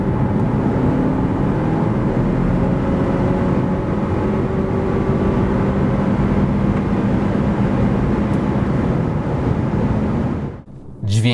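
A Toyota C-HR 2025 GR-Sport plug-in hybrid with a 2.0-litre 223 hp engine pulls from 90 to 140 km/h, giving a loud, sustained cabin drone of engine and road noise that cuts off abruptly near the end.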